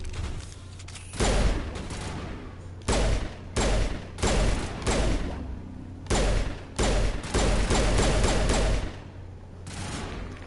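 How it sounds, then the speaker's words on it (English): Repeated bursts of rapid gunfire in Mass Effect: Legendary Edition, loud, close volleys coming in several separate clusters with short gaps of quieter background between them. "I don't understand why we're all of a sudden shooting here."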